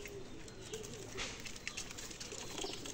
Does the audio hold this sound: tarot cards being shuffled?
no